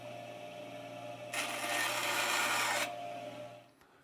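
A saw cuts through a poplar dowel at a 15-degree angle to shape a fishing lure's mouth, a steady rasping stroke lasting about a second and a half, close and alone.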